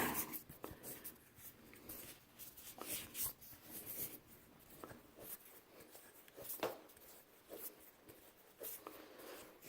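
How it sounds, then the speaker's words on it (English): PEX plastic pipe being cut with a cutter, a faint run of crunching, scraping and rubbing noises, close and quiet, with irregular clicks and no talk. "there's the mark, and we're cutting right on the mark."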